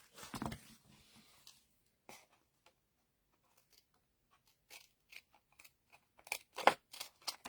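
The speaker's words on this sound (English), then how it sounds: "We'll take our snips here." Hand snips cut through paper while a stamped winter card is being made, giving quiet, close crisp snips and crunches, scattered at first and then clustering into several quick cuts near the end.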